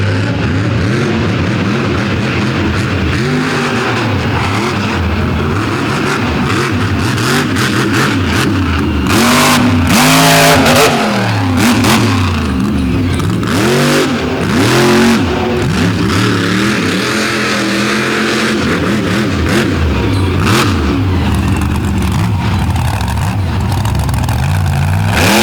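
Outlaw monster truck drag racing, with powerful engines revving and roaring continuously and loudly, rising and falling in pitch as the trucks accelerate down the track under a dense, steady wall of noise.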